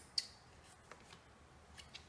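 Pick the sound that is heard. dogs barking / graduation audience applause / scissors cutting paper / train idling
scissors cutting paper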